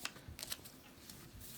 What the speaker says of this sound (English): Always shuffle, shuffle, shuffle.